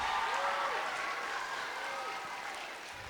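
Students applaud a fifth grade band at an elementary school dedication ceremony, producing a dense, sustained round of clapping that gradually tapers, with faint voices underneath.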